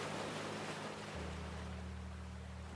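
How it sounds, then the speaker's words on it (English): Ocean surf washes continuously against the shore in a broad, steady roar, with a constant low rumble and no voices. "The rhythmic sound of the waves washes over you"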